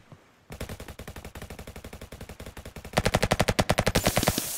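Rapid hip-fired gunfire in a Roblox first-person shooter, a fast even string of sharp shots that grows louder and denser partway through, close and continuous.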